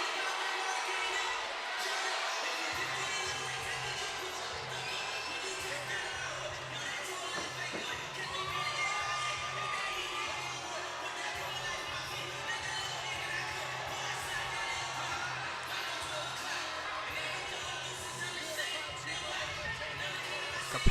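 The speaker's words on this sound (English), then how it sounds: "Capacity crowd here at the Masonic Temple." A capacity crowd fills the Masonic Temple for a women's pro boxing fight, a broad steady murmur of voices and shuffling throughout, with no clear cheering bursts.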